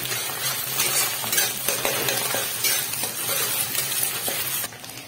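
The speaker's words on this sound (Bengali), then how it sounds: "তো এবার ভালোভাবে নাড়িয়ে ভেজে নিতে হবে আর কি" Chowmein noodles stir-fry in a hot pan, with a steady loud sizzle and the scrape and clink of a spatula stirring throughout, close up and with no voices.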